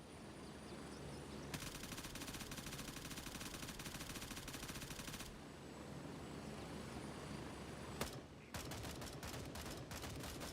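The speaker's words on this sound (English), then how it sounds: "And now let me see you shoot a drum mag." Drum-magazine automatic fire in Gray Zone Warfare: long sustained bursts of rapid shots, a pause, then a run of shorter bursts, set against a constant low engine drone.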